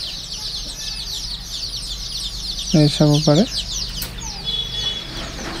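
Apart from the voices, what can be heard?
local chickens clucking on a farm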